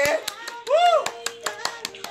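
Steady, rhythmic hand clapping at a brisk even beat, with a voice calling out over it.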